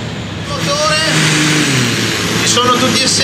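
Pulling tractor engine revving hard at a tractor pulling event in Trecasali, Italy, a loud sustained roar with rising and falling pitch, heard over the noise of the event crowd.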